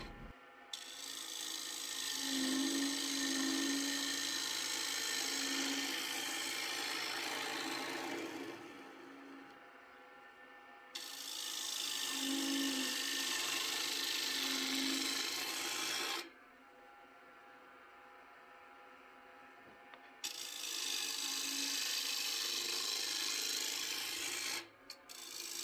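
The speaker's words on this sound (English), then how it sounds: "dive in and hollow this guy out, usually from the center towards the outside" Lathe gouge peeling the face grain while hollowing an Accoya wood bowl from center outward: three long, loud continuous bursts of rasping, scraping cuts separated by brief pauses, with no talk.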